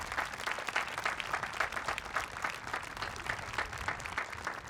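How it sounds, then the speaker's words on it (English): Audience at a school moving-on ceremony applauds its Team B teachers, a steady wash of clapping sustained for several seconds at moderate distance with no pause. "let's give our Team B teachers a round of applause"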